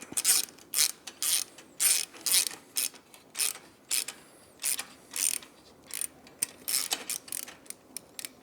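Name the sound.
ratchet snugging up exhaust bolts on Speed Twin 1200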